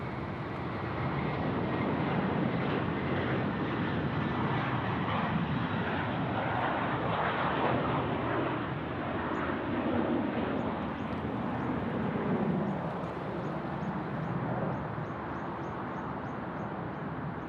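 An airliner rolls and climbs away on takeoff from Sydney Airport, its engines a loud, sustained broadband roar that swells and holds steady throughout, with no talk over it.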